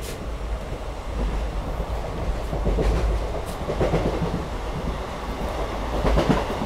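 A passenger train runs along the tracks with a steady low rumble and rhythmic clatter of wheels over rail joints. The noise is loud and continuous, it swells slightly mid-ride, and no one speaks.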